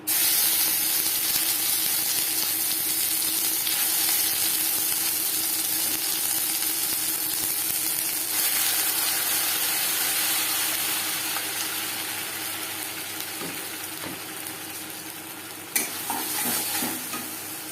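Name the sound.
stuffing being fried and stirred in mustard oil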